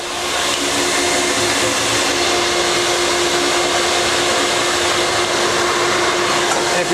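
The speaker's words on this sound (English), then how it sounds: "So we're going to turn the vacuum back on just to try to clear that." A Ruwac WS2320-HD portable industrial vacuum runs steadily and loudly on graphite powder, a constant whooshing roar with a fixed motor whine that carries through the whole stretch without pause.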